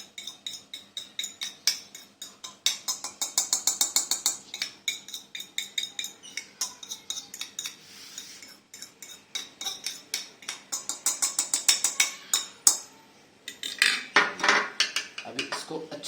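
A spoon stirs a red chili spice mixture in a bowl, making rapid rhythmic scraping and clinking bursts close up, loud and repeated in runs with brief pauses between them and no talk.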